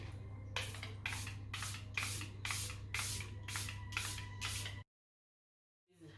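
Airbrush flawless setting spray misted onto a face in about eight short, evenly spaced hissing bursts, close and crisp, then silence with a faint sound at the very end.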